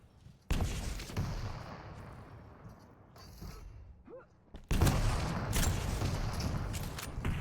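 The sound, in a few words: rocket launcher fire in the video game Quake Champions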